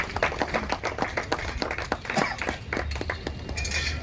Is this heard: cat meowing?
no